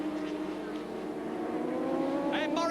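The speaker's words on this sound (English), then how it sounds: "on the Honda, chased by Hurst on the Kawasaki." Late-1980s 600cc supersport racing motorcycles, a Honda chased by a Kawasaki, engines droning steadily at a distance under continuous race commentary.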